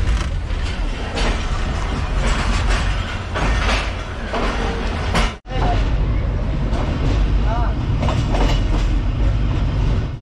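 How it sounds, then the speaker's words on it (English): A passenger train in Pakistan rumbles steadily along the rails with rhythmic clatter and rattling carriage noise, loud and continuous, with a brief dropout midway. "this is my first experience on the Pakistan train"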